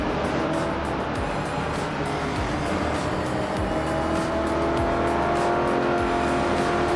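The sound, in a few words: 1969 Chevrolet Nova SS race car driving in a racing video game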